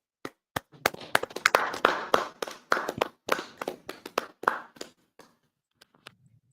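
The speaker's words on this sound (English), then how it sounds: "Y'all clap it up, Baba Kushar." A small group claps in loose, uneven bursts at a religious class gathering, sharp hand slaps rising to a dense patter then thinning out to a few scattered claps before fading near the end; no talking.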